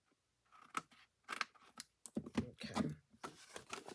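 Scissors trim a sheet of paper with a quick series of close, crisp snips and rustles. The cuts come in irregular bursts and stay quiet overall.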